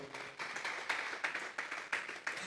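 A church congregation claps together during a Spanish-language sermon, a steady patter of many hands at moderate distance with rhythmic surges, no talking over it.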